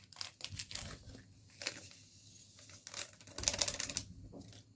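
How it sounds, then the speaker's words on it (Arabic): A paper packet of vanilla being torn open and tipped onto a bowl of semolina for basbousa, with close crinkling, tearing and rustling in uneven bursts. "وانزل عليه كيس فانيليا"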